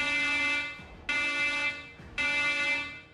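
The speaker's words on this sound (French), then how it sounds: "Tu entends une alarme faire écho." Tabletop role-playing sound effect of an echoing alarm: three long, loud buzzing electronic blares with rich harmonic tone, each sounding about a second and trailing into a brief echoey gap before the next.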